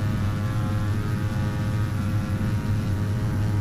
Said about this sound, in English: Now, in theory, this plane should be able to take off relatively easily.